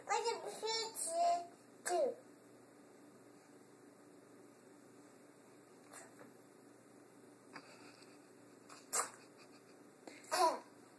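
A young child sneezes, a sharp burst near the start after a stretch of babbling, followed by further brief sneeze-like bursts later on, fairly close and moderately loud against a quiet room background.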